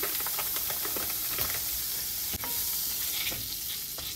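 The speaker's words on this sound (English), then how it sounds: "what I'm going to do is add some butter" Butter sizzles hard in a hot pan after seared scallops, a loud, dense, hissing crackle that runs continuously, with faint stirring ticks and no voices.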